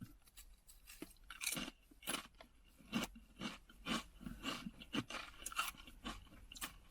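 Close, quiet crunching and chewing of President's Choice kettle cooked sour cream chips comes in a series of crisp bites and grinding chews at an uneven steady pace, with no talking.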